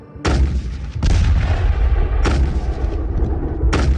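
Chinese army artillery cannons fire in heavy, loud booms, with three or four blasts spaced about a second apart over a continuous rumble.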